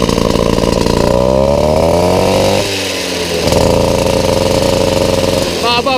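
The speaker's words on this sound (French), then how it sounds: "il ronronne le 70 Airsal" A Peugeot 103Z moped's two-stroke engine with a 70cc Airsal kit runs nearby, idling with a rough buzz and a couple of short revs that rise and drop back.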